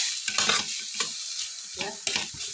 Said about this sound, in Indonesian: ngaduknya nih ini lagi, gabung lagi, nyatu lagi ini